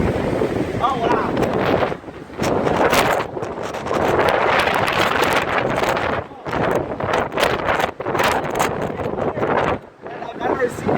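Strong storm wind roars and buffets the microphone almost continuously, loud and gusty with brief lulls, while people talk faintly underneath.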